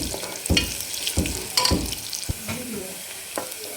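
Onion frying in a pan for Kolhapuri misal, a close sizzle broken by several loud spatula scrapes and knocks against the pan in an irregular rhythm.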